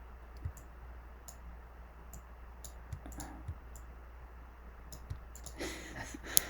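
Keys on a Mac computer keyboard are pressed in a few scattered, soft clicks spread out over steady background hum, with a small burst of tapping near the end.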